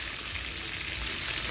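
Pork cutlets sizzle and fry steadily in a hot pan, a dense, continuous crackle heard up close with no talking.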